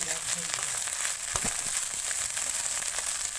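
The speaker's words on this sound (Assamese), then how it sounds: "এতিয়া মই মাছটো ভাজি আছোঁ" Loud, continuous sizzling and crackling of fish frying in hot oil, with a brief scrape or knock partway through.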